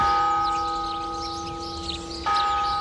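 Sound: church tower bells ringing

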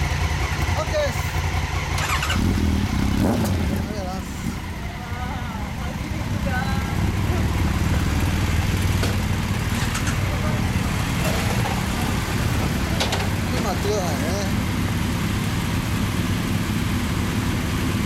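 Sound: 2016 Honda CRF1000L Africa Twin motorcycle engine starting and running

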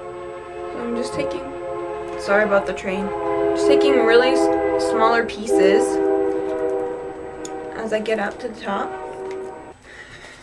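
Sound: train passing with horn

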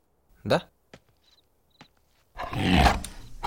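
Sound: tiger roar

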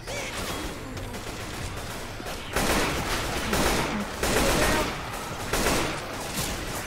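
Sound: AK-47 rifle gunfire in video game Left 4 Dead 2

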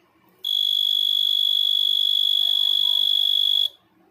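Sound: sealing machine auto-cut beep

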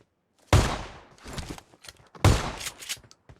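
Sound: shotgun fire in a video game

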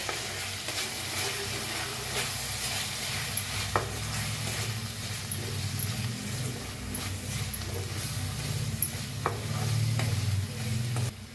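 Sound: stirring masala with chili and salt in a frying pan

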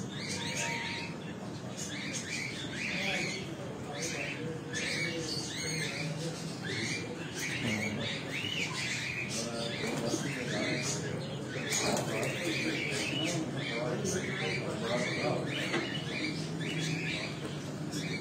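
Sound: Jailer breed pigeons

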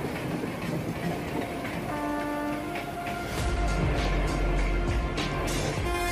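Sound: passing train in Indian fastest-trains video

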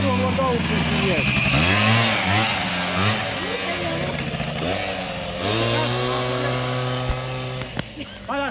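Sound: small motor scooter engine running

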